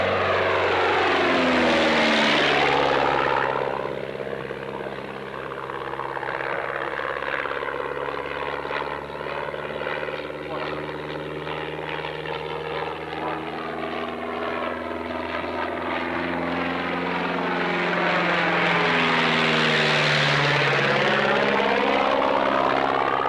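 Pair of Gipsy-engined de Havilland Chipmunk propeller aircraft in an aerobatic display at the Warbirds Over Wanaka airshow, New Zealand, droning loudly with sweeping Doppler pitch shifts as they pass, fading slightly mid-pass and then swelling again.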